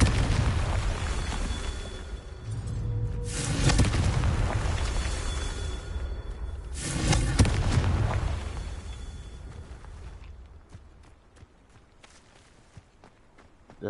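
Magic blast spells detonate in Hogwarts Legacy, two heavy booming explosions a few seconds apart with crackling debris, then trailing rumble fading to quiet.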